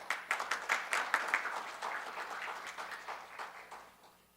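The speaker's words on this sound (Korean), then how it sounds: "큰 박수 부탁드립니다" Applause from the audience at the opening of the 2022 Latin America Cooperation Center symposium, as a foreign ministry director is introduced. Many hands clap in brisk, distinct bursts that gradually thin and fade out.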